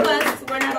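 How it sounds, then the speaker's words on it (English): A live audience claps for a Latina female rapper taking the stage, a brief burst of close, sharp handclaps with some voices mixed in. "Another round of applause."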